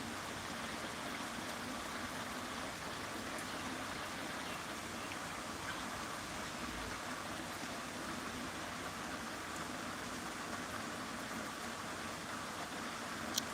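Steady rain falls under a cloudy sky, a faint, even hiss of drops that holds constant throughout with no voices.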